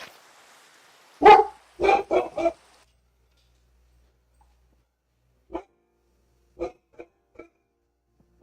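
A dog in the Minecraft video game barks in two loud clusters, first three or four quick barks close together, then after several seconds of silence a looser scatter of fainter, shorter barks and yips.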